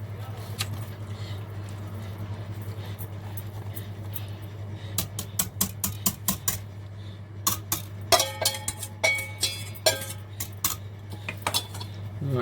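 A utensil stirs a batter of eggs, milk, flour, salt, pepper, coriander and cumin for an Egyptian omelette. Quiet clinks first, then a run of rhythmic metallic taps against the bowl, close-up over a low steady hum.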